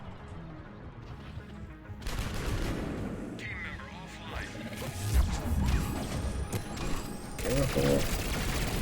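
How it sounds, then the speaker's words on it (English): Explosions and gunfire in Mass Effect 3 multiplayer: a loud blast and crashes with rapid shots and impacts, set against a steady game soundscape, while a player briefly speaks. "Is that within range, that explosion?"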